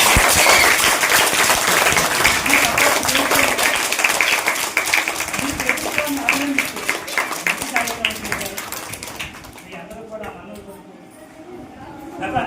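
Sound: parents clapping loudly at school meeting

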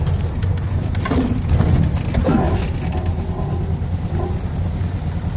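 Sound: Volkswagen Beetle engine running while driving

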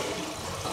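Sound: water draining from toilet tank

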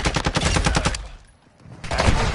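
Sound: gunfire in Modern Warfare 2 video game

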